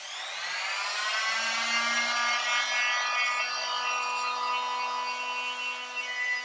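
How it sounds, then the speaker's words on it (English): A Worx F30 oscillating multitool fitted with a Sabrecut blade cuts through plasterboard during a bathroom refit, giving a loud, continuous high-pitched buzzing rasp that holds steady for several seconds. "I'm going to be cutting down this line here to start pulling away this plasterboard."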